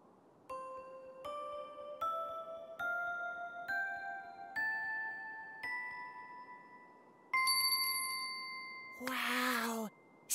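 Cartoon bells ring in a rising sequence of clear, tonal dings, one after another, ending in a brighter sustained chime with a short voice over it near the end.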